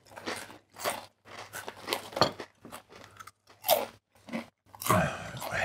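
Repeated loud, close crunching and chewing of thick butter shoyu potato chips from a Japanese 7-Eleven, a quick series of separate bites with brief pauses, heavier at the end.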